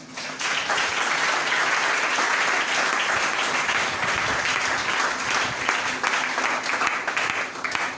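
A congregation at a church service breaks into sustained applause, a dense, steady wash of many hands clapping at close range for the full length without pause or speech.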